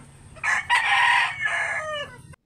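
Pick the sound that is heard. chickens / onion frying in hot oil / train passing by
chickens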